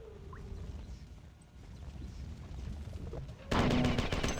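A grenade explosion used to jump in a video game bursts near the end, a sudden loud broadband blast after quiet ambient game sound.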